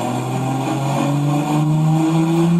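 A car engine holds a high, strained drone under load during a dyno pull making around 800 horsepower, one continuous loud tone that climbs slowly in pitch across the whole stretch, close and alone.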